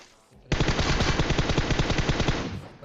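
Automatic gunfire in the video game PUBG erupts as one loud, close, rapid burst of shots lasting about two seconds, then cuts off.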